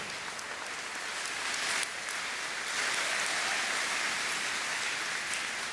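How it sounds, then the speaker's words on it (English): Sustained applause from a large convocation audience at a university fall graduation ceremony, a steady dense wash of clapping through the whole stretch that swells slightly partway in, with no talking. "Let's give Lee in his absence a great round of applause."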